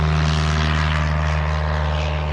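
A propeller airplane built by students drones steadily, a loud continuous engine hum with a strong low-pitched buzz and rushing air, unbroken throughout.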